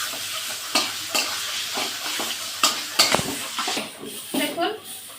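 A paste of raw banana peel is stirred and mixed through hot oil in a pan, with repeated scraping strokes of the spoon and a soft sizzle running underneath, close and moderately loud.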